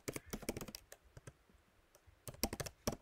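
Rapid clicking keystrokes on a computer keyboard in irregular bursts with short pauses, close and fairly loud, with no talking.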